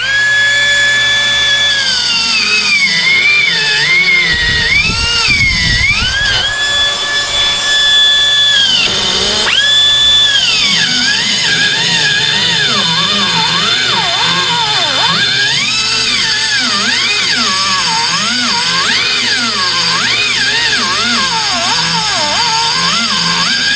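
Power tool grinding on a car's exhaust flange and manifold in a shop, a loud continuous whine that rises and falls in pitch as the grinder bites, running throughout with no talk.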